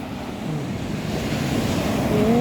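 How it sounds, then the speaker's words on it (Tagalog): Big waves breaking into foam at Hak Sa Beach in Macau, a steady rushing wash of surf with wind noise on the microphone, building slightly louder toward the end, no voices. "Actually nakaka-relax din tong sound ng foam."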